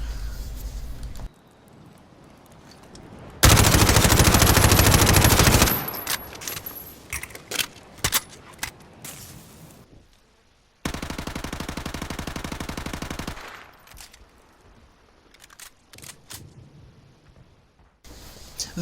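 MP5 submachine gun fired in loud, sustained automatic bursts while aiming down sights outdoors in a video game, two long bursts separated by scattered shorter shots and quiet gaps.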